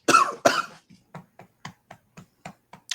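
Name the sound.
coughing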